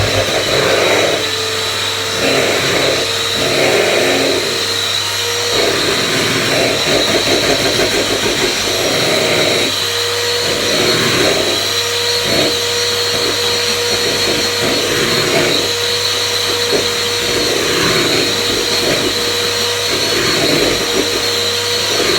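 Electric whisk beating egg yolks until stiff for low-carb cloud bread, a loud steady motor whine running throughout with slight wavering as the beaters move through the bowl.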